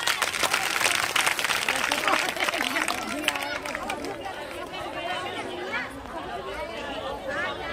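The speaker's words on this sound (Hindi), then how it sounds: "एक बार ताली बजा दे, हवा आ जाएगी" A gathering of women at a domestic workers' union meeting breaking into clapping, a dense burst of applause fading into crowd chatter and babble, with voices talking throughout.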